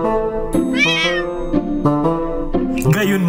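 A pet cat meows repeatedly in a domestic setting, giving several drawn-out, rising and falling calls close to the microphone while music and voices play underneath.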